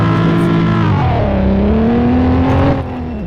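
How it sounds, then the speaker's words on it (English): A Nissan 370Z Nismo launches hard, its engine note rising steadily in pitch as it accelerates, loud and close, before the revs drop off sharply near the end. "So I'm gonna try to launch this thing again, so you guys can see the front."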